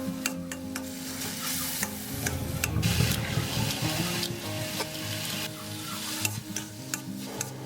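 Job's tears rice tossed in a pan of sesame oil with garlic-chili paste, ham and sweet pepper, sizzling steadily with repeated sharp ticks of a utensil scraping and stirring, close and continuous.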